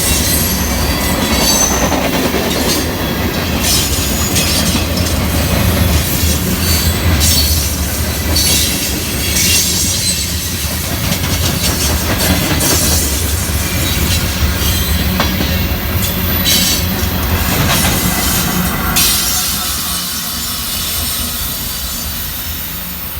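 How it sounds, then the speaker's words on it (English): CSX freight train Q583 passing on a real railway near Marietta, a loud continuous rumble of rolling wagons with wheel squeal and clicking rail joints, fading slightly near the end. "we caught CSX train"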